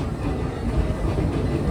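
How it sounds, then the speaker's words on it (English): Riding the Serengeti steam train at Busch Gardens Tampa, a steady low rumble of rolling rail cars with faint rhythmic clatter, continuous and close throughout. "And as our train continues to travel through the Egypt side of the park"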